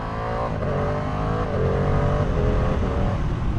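A Ducati motorcycle engine drones while riding on a highway, a close, continuous hum with steady harmonic tones that shift slightly in pitch, under wind rush.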